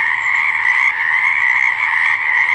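Water frog croaking in a steady, loud, close call that runs unbroken throughout, with no voices.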